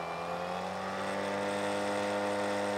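A Litheli U20 cordless string trimmer on its high setting runs as a constant, fairly loud electric whine with a steady pitch, close by and alone.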